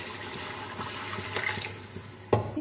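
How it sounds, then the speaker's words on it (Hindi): Chicken stock (yakhni) poured into chicken browning in a pot for pulao, a faint, steady liquid trickle lasting a couple of seconds, with a brief louder splash near the end. "अभी हम चिकन में यखनी ऐड कर देते हैं।"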